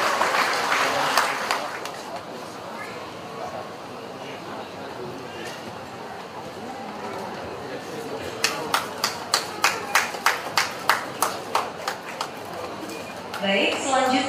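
Audience applause at a mass Christian wedding ceremony, with broad clapping at first that thins out, then a run of sharp, evenly spaced claps and a final burst of crowd applause.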